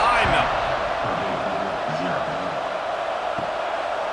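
A stadium crowd in the College Football 26 video game roars in a steady, broad wash of cheering as the teams set up for a kickoff, with a faint bounce or thump early on.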